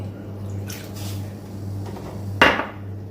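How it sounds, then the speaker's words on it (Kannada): Water added to a cooking pan of fried onions and coconut milk, soft liquid sounds over a steady low hum, a few faint clinks, and one sharp metallic knock near the end. "ಹಾಗೆಯೇ ಸ್ವಲ್ಪ ಅದಕ್ಕೆ ನೀರು ಸೇರಿಸ್ತೀನಿ."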